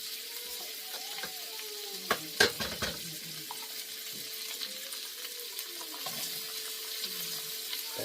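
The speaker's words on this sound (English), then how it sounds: "I'm gonna go in now with my lovely peppers and onions" Peppers and onions sizzle in a frying pan, a steady hiss with a few sharp clatters of stirring near the start and occasional scraping later.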